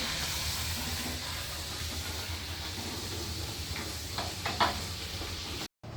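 Puris frying in hot oil give a soft, steady sizzle and hiss with a few brief bubbling bursts near the end, all fairly quiet and without voices.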